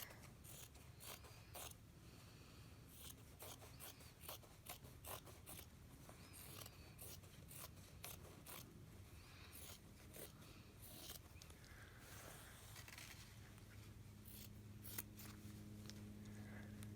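Scissors snip through quilt fabric in a steady series of crisp cuts, close and clear, alongside faint handling rustle.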